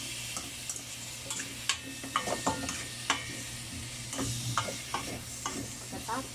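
Sautéed ingredients for ginisang munggo are stirred in a pan, with a steady soft sizzle under scattered scraping and clacking of the utensil, close and fairly quiet.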